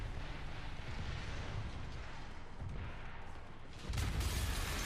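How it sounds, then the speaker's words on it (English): A booming explosion from the video game Spider-Man Remastered, a dense rumbling roar that fills the scene and swells louder near the end, with no talk over it. "Explosions!"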